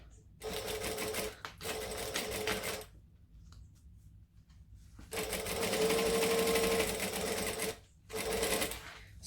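A sewing machine basts lining pieces onto a zip-around wallet in short bursts of rapid stitching separated by pauses, close and clear, with a longer run near the end.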